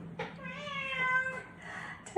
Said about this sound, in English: it's a lot easier if you do not have a cat whinging at you in the background